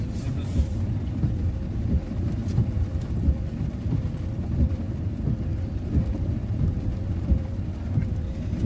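Thunder rumbles low and continuous through a heavy storm in Pennsylvania, mixed with steady rain and some wind buffeting on the microphone, with no voices.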